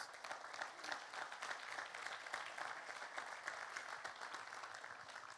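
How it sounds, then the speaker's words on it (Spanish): A congregation applauds during a pastors' and leaders' church convention, giving a big hand to Jesus: continuous, fairly faint crowd clapping with a busy, crackling texture and no talk. "Dale un fuerte aplauso a Jesús"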